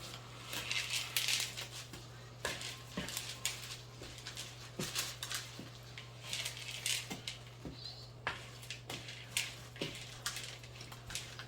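Semi-sweet chocolate chips being stirred into chewy chocolate chip cookie dough, giving soft, repeated scraping and patting sounds at a steady rhythm, close and fairly quiet over a constant low hum.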